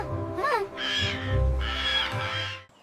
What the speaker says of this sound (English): I hear birds. Are those parrots?